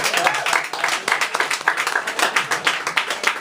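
Audience at a spoken word poetry night claps and applauds, a dense steady patter of many hands at moderate loudness with no talking over it.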